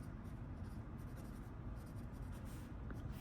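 A Benu Talisman fountain pen with a fine nib writes on paper, a faint continuous close scratching over a quiet background with no talk.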